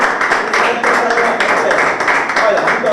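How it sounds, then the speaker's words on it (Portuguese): Studio audience applause on a Portuguese-language Angolan TV show, a steady, loud wash of clapping lasting the whole moment with voices mixed in. "Essa é a estreia. Salva de palmas"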